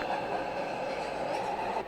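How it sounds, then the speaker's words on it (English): An NYC subway shuttle train sits at the platform, a close steady mechanical hum and rumble with faint rail noise, no talk. "There is a train approaching track 2."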